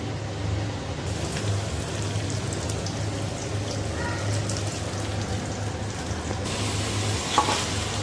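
Red amaranth greens frying in a wok with onion, garlic and chopped chili, a loud continuous sizzle with occasional stirring scrapes, close and with no talking.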